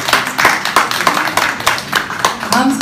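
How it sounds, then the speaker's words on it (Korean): Scattered clapping from an audience at the opening ceremony of an art fair in a gallery, uneven and moderately loud, with a voice speaking briefly near the end. "두 분께 다시 한번 큰 박수 부탁드립니다"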